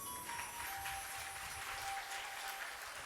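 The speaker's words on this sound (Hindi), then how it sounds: "तालियां बहुत मरी मराई बजी है।" A religious discourse audience claps steadily and evenly for about three seconds with no speech over it, heard from a moderate distance.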